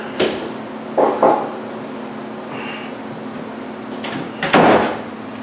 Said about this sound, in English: and shut this door here